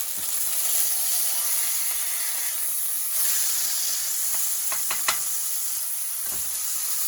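A burger patty sizzles steadily on a hot cooking surface after a flip, a continuous close hiss broken by a few faint knocks and scrapes.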